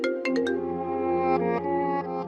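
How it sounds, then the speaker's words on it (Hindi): A mobile phone ringing indoors during a Hindi TV drama, a melodic ringtone with a few bright chime notes at the start followed by a sustained tonal ring, close and clear with no talking. "ऋतु दी का फोन इस वक्त?"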